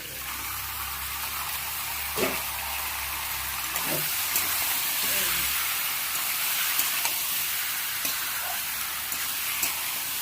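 Marinated fish, a Bengali bata-style preparation, sizzles loudly in a hot oiled pan, with a dense continuous hiss and spatter plus occasional soft clinks and stirring taps.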